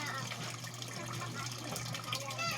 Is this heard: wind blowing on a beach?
no